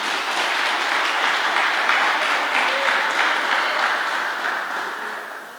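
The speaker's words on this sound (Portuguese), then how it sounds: "Uma salva de palmas para Jesus" Sustained applause from a church congregation during a worship service, a dense, steady roar of many hands clapping that holds for several seconds and fades slightly at the end.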